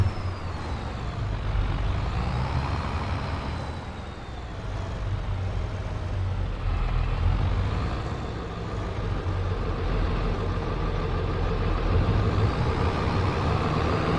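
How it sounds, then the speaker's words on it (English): A truck engine idles with a steady, loud low rumble that swells and dips slightly, close and continuous with no talking. "I'm hearing a truck running."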